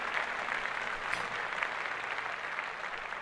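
An audience applauds in a steady, dense patter of many hands clapping at a constant level, with no individual voices standing out.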